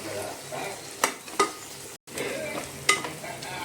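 Mutton curry being stirred in a hot pan after chili powder and salt go in: a continuous sizzle with scraping strokes and a few sharp spoon-on-pan clinks, close and unaccompanied by speech, with a momentary gap partway through.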